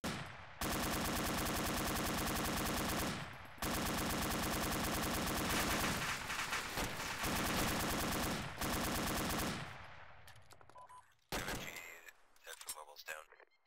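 A PKM machine gun in Arma 2 fires long sustained bursts into a building, loud and continuous with brief gaps, ending in shorter, more scattered bursts and distant shots.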